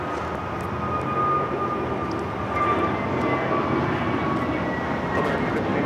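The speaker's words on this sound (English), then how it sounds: "This is American Airlines 1659 taking off to Dallas-Fort Worth on the A321neo" An American Airlines Airbus A321neo takes off from Los Angeles LAX for Dallas-Fort Worth, a fairly distant, moderate jet rumble that holds steady with a faint tonal whine and no talking.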